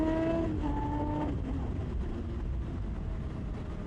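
A motorcycle engine revs with a quick throttle blip while downshifting, a loud close whine that rises and falls briefly before settling into a steady roaring drone.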